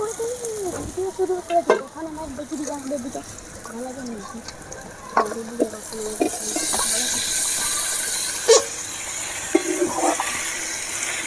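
Marinated chicken goes into hot spice paste for a spicy red curry, setting off a loud steady sizzle with stirring scrapes, while someone speaks intermittently over the frying.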